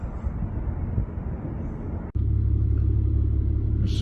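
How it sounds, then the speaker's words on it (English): Low, steady rumble of thunder arriving from behind during a storm with a hail core nearby near Princeton, BC, a continuous loud roar that briefly dips and then swells again, with wind noise on the microphone. "Starting to hear thunder coming in from behind me for some reason."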